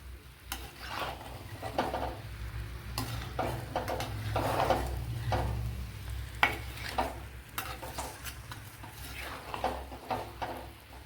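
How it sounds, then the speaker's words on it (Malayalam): Papaya is stirred in a frying pan as it cooks down, a continuous sizzle under repeated scraping and clinking of a spoon against the pan, close and steady, with no talking. "നല്ലതുപോലെ ഒന്ന് ഇളക്കി യോജിപ്പിച്ചെടുക്കാം."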